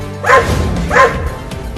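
Two cartoon dogs bark in a Hindi children's animation, two loud close barks about half a second apart, with no talking over them.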